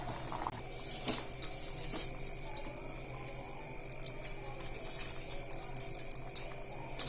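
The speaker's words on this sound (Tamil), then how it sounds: "இப்போ பார்த்தீங்கன்னா தண்ணி நல்லா கொதி வந்துருச்சு." Water bubbles at a rolling boil in a pot for cooking rice, a soft continuous gurgle heard up close and fairly quiet.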